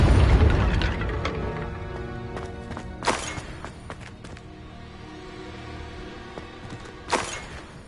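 The Confringo explosive spell in Hogwarts Legacy sets off a booming blast that fades into a long rumble, followed by scattered impacts and a second sharp burst later on.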